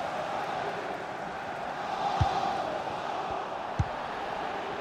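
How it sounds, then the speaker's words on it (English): Virtual stadium crowd from a FIFA 21 PSG career-mode match: a steady, dense roar of fans that holds throughout, with a couple of brief thumps standing out. "Listen to that crowd. Feel that energy."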